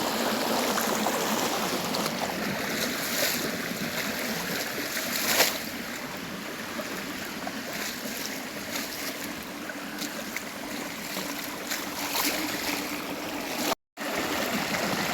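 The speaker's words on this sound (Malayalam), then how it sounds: "ഇവിടെ വെള്ളം ഇങ്ങനെ ഒഴുകുന്നൊന്നുമില്ലായിരുന്നേ" A small rural stream near Palakkad, swollen with rainwater after a single heavy overnight downpour, rushes in a continuous loud broadband roar close by, steady throughout with no voices.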